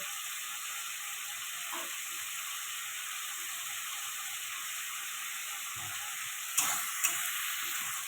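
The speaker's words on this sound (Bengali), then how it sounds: "মশলাটা ভালো করে কষিয়ে নেব" Spice masala is sautéed in a pan with a splash of water and salt for a fish curry with pointed gourd and potato, giving a steady, even sizzle throughout with a couple of brief sharper clatters near the end.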